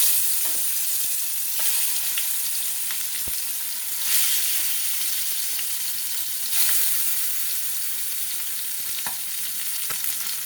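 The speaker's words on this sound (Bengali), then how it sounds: "তেল গরম করে নিলাম, এবার মাছগুলো ছেড়ে দেবো।" Fresh koi fish rubbed with salt and turmeric fry in hot mustard oil, producing a loud, continuous bright sizzle with scattered pops and crackles close by, and no one speaking.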